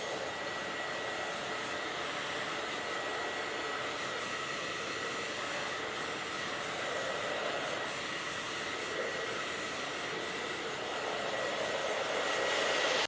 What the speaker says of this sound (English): as I blow dry it, I'm using my hands to work the shape in